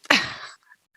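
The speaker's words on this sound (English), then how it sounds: "Just going to crack this can" A drink can cracks open with a sharp pop and a short fizzy hiss that fades within half a second, close and alone, followed by faint rustling.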